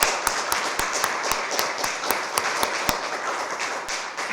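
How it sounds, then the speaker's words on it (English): Applause for presenters at an academic symposium, a steady mid-level wash of clapping from a modest audience, punctuated by sharp, regularly spaced nearby claps. "Let's give another big round of applause for our presenters"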